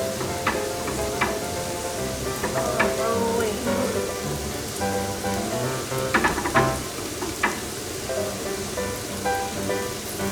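Zucchini stir-frying in a pan for spaghetti, a steady close sizzle and crackle of frying with occasional clinks and scrapes of stirring throughout.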